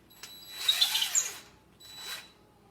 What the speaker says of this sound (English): now I'm able to screw this ledger board to my holes here